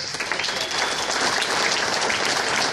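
Applause from guests at a ball held by a waste-management business association, a broad, even wash of many hands clapping throughout, steady and fairly loud with no break.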